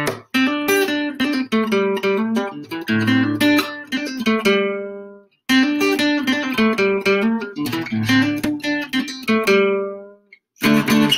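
Acoustic guitar playing the intro to a song at full speed, with busy picked and strummed chord patterns in two repeated phrases, close and loud with no talking.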